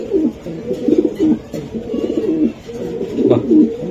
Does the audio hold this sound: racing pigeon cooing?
yes